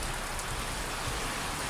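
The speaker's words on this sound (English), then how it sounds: "And this rain does not want to be letting up yet." Heavy torrential rain of a thunderstorm in Calliope, Queensland, pours down as a dense, steady roar with no let-up, loud and close throughout.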